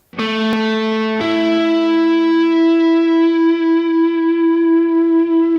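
Two guitar notes plucked in succession, a rising perfect fifth, the second ringing out and sustaining with a processed, slightly echoing tone.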